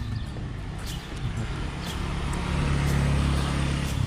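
Steady traffic rolls along a palm-lined residential road in Chiang Mai, Thailand, a continuous low engine rumble from passing cars that swells slightly louder toward the end, with no voices.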